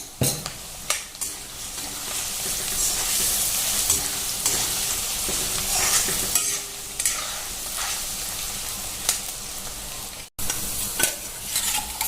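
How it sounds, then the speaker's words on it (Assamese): Onion, ginger and garlic paste sizzles steadily in a hot pan for a chicken and pumpkin curry, with frequent scraping stirs of a spatula against the metal and a brief gap near the end. "আদা নহৰু পিঁয়াজখিনি ভাজোৱাত"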